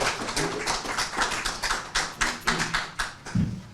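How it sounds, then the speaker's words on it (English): Scattered hand claps from a small audience greeting a speaker at an evening book-discussion event, irregular and close, a sparse patter of individual claps with no voices over it. "let's give him a round of applause"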